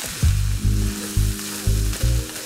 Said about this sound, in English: We can put our garlic in. And we're just gonna cook the garlic until it's fragrant.